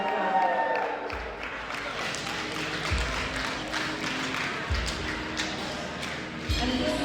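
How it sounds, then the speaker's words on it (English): An audience at a speech event gives sustained applause, a dense wash of clapping that holds steady throughout with a few voices mixed in. "Give that a clap."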